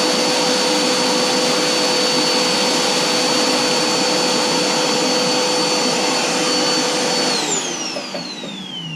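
Suction machine running at high volume as a loud, steady broadband roar with a constant whine, dropping off slightly near the end as it winds down; no voices.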